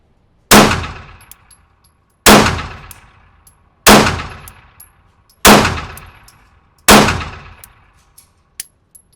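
A Springfield Hellcat Pro pistol loaded with 80-grain ammunition fires five loud, sharp shots spaced about one and a half seconds apart, each with a ringing metallic decay. Faint clinks follow, and no one speaks.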